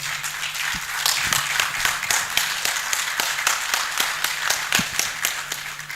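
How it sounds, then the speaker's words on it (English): Audience at a New Year school and conference clapping in a loose, uneven rhythm, with individual claps standing out near the mic. The applause holds fairly steady at a moderate level, with no talking over it. "So let's give him a huge round of applause."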